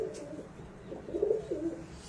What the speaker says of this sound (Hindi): एक्सीलेंट कबूतर माशाल्लाह